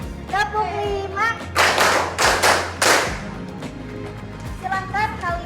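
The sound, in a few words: pupils' rhythmic classroom clapping game (tepuk)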